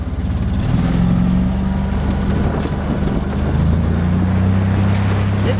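A customized EZ GO six-passenger golf cart drives across a rough field, its motor humming steadily under rumbling, bumpy noise and wind buffeting the microphone.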